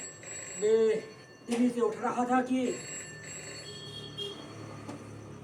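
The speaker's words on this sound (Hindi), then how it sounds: "अचानक टेलीफोन की घंटी बजने लगी।" An old telephone bell rings in steady trilling bursts while someone narrates over it.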